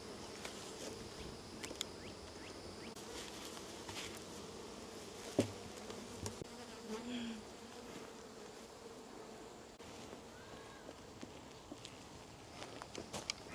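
Honeybees buzz steadily around an open family beehive during an inspection, a continuous close-up hum with a few soft knocks and handling sounds, no talking.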